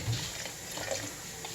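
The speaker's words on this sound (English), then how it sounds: "I'm going to go ahead and add in a little more liquid. Just plain water." Plain water being poured into cucumber soup ingredients before blending, a soft, quiet continuous trickle and splash lasting a moment, close by with no talking.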